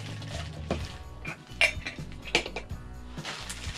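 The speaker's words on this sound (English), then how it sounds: "Oh, that lid came off like butter." A lid comes off a Funko Soda can with a few metallic clinks and scrapes, close and fairly quiet, with sharper clicks in the middle and no voices.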